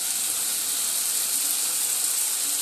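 Cashew and melon seed paste sizzling in a hot pan of onions for a spicy crab curry, a steady, even hiss throughout with no talk.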